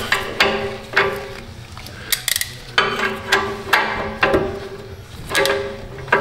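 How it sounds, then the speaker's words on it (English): Working under a Jeep Grand Cherokee, a short ratchet wrench is cranked in repeated bursts, producing close metallic clanks and clicks with pauses between strokes. "Try a shorter ratchet,"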